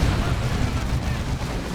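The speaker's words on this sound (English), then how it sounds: "Devastators are getting a las cannon up." Devastators fire a lascannon in the real-time strategy game Dawn of War 2 amid a loud, dense barrage of booming weapon fire and explosions that continues without pause, with a commentator talking over it.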